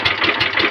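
A Planet engine catches on a single pull and settles into a steady, close, loud idle with a rhythmic pulsing beat.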